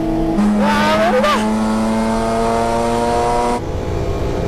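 Race cars battle through the slipstream at Fuji Speedway, with loud sustained engine drones whose pitch shifts as cars pass, steady and close throughout.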